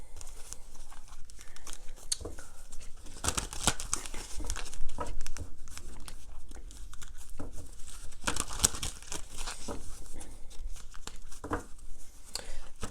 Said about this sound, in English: So now I'm going to shuffle the deck for the message of Jin.